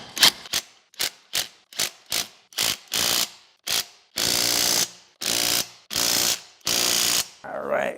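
Impact gun running down 2-inch wheel spacer nuts on a 2020 Kubota 1100C tractor, a close, loud sequence of short rattling bursts that lengthen into sustained hammering runs, with no talk.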